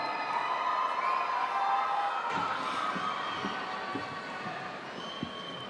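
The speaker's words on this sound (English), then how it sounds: "Please limit the cheering to allow the next graduate to be heard." A large crowd cheers and shouts at a Georgia Gwinnett College spring 2024 graduation commencement, a dense, echoing roar that gradually fades a little, with no clear speech.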